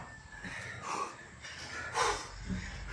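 Heavy, ragged panting from someone winded after Filipino martial arts conditioning training, with three or four louder breathy gasps at irregular intervals, close to the microphone and with no talk.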